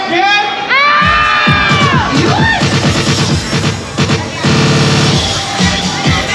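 A loud, dense crowd cheers and screams at a Seafood City store in Mississauga during a group's appearance, with shrill whoops, shouting and music blending into a continuous roar, and voices calling out through it.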